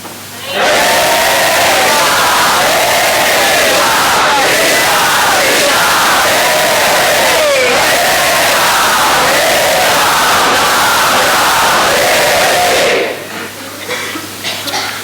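A loud, dense roar of many voices chanting together, sustained steadily for about twelve seconds before cutting off abruptly.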